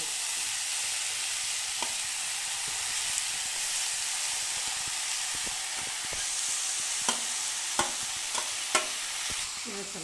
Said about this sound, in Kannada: ಇವಾಗ ನಾನು ಮೆಂತ್ಯ ಸೊಪ್ಪನ್ನ ಹಾಕ್ತಾಯಿದ್ದೀನಿ